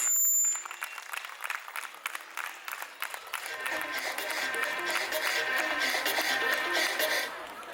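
A school annual day audience applauds the principal walking onto the stage, the clapping swelling after a faint start and a bell-like ding, then holding as a dense, steady round before easing off at the end.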